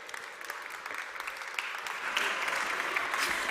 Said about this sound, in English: one more big applause